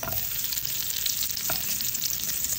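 Sliced onion frying in a pan for a Filipino papaitan dish, giving a steady, close, dense sizzle with a few faint stirring scrapes and no voices.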